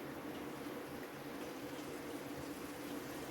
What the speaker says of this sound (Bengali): ঝোলটা টকবক করে ফুটে গিয়েছে।